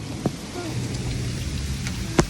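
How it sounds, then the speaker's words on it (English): Heavy rain pours down steadily in a close, dense hiss, with a few sharp knocks or drops standing out. "It is raining real bad."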